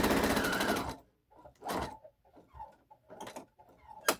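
A sewing machine stitching around a lace pinafore top, one long whirring run followed by several short stop-start bursts of stitching with quiet gaps for pivoting, close by and with no talk.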